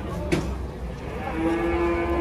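A sacrificial cow, just unloaded from a truck, lets out a long low moo that holds steady for over a second, following a brief sharp knock, over outdoor background noise.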